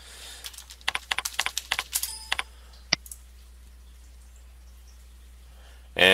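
Quick bursts of keystrokes clatter on a computer keyboard while someone types a login, a dozen or so sharp close taps in the first three seconds, then quiet, with a brief noise at the end.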